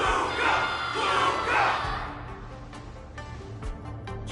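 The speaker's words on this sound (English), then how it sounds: "Can't you hear? Everyone's cheering for you, Luca!" Loud crowd cheering in a video game, a broad roar of many voices with whoops and yells that peaks in the first two seconds and then fades into quieter background noise with faint clicks.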